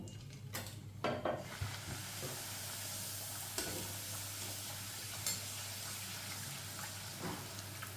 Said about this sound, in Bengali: এবার এখানে আস্তে করে একটা করে লুচি দিয়ে দেবো